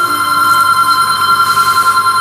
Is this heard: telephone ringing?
yes